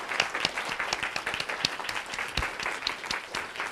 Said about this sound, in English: Can we give them a round of applause for such an amazing season?